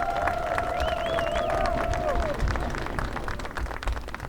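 Audience applause and cheering for a high school marching band at a Friday night outdoor concert, a steady dense wash of clapping and crowd noise filling the whole stretch, with a whistle-like tone sliding over it early on.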